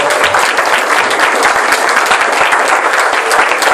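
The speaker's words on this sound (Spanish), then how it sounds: "Vamos a darle un aplauso al Señor por el coro, por favor" A church congregation applauds the choir during a service, dense sustained clapping from a crowd filling the room evenly and loudly throughout, with no pauses.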